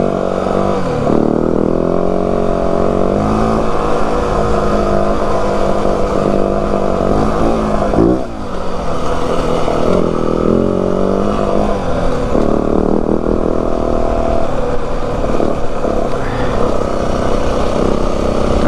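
Yamaha WR 450F dirt bike climbing a loose-rock uphill in the Santa Rita mountains, its engine droning loud and steady throughout, with shifting revs and a brief dip midway.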